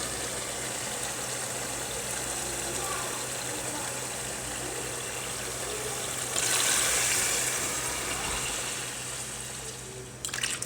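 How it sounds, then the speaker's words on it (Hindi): Water poured from a cup into a pot of cooking Lahori chickpeas and potatoes, a faint steady trickle against low kitchen hum that briefly swells louder midway before tapering off. "अब इसमें हम 2 से 3 प्याली पानी डालेंगे।"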